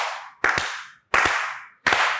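Three sharp, loud claps ring out on a talk show set, each a crisp percussive burst followed by a short decaying tail, spaced about three-quarters of a second apart with no voices.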